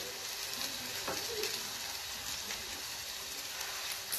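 Whole spices fry in a pan: dried chillies, cinnamon, cloves, garlic, ginger, poppy seeds and pepper for a lima bean chicken curry, giving a soft steady sizzle with a few light stirring scrapes and no voices.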